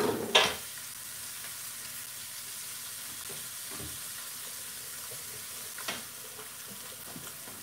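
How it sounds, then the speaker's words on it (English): Sausages searing in a pan at a live cooking session, a steady moderate sizzle with a few clanks and a short burst of tap water, heard close with no talking. "we're basically just going to sear them on both sides"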